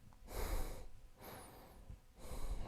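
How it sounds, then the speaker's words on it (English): Nose breathing straight into a Maono WM820 wireless lavalier microphone, two loud breathy rushes of air with a softer one between, close and unvoiced. "maybe I'll do some nose breathing"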